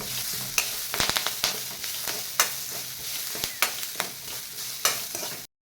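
Garlic and coconut paste with a handful of leaves is stir-fried for a brinjal and potato curry, a loud close sizzle punctuated by rapid, irregular spatula scrapes and knocks against the pan, ending abruptly, with no voices.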